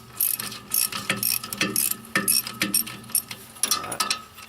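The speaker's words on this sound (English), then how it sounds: "Go ahead and put our wrench on this bottom tine." A wrench ratchets on the bottom tine of a John Deere 4105 tractor, giving a close, steady run of quick metallic clicks in short bursts with brief pauses between strokes, and no voices.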